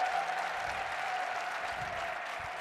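Steady applause from a large crowd fills an arena at the Westminster Kennel Club dog show, a continuous, moderately distant wash of clapping with no clear talk over it.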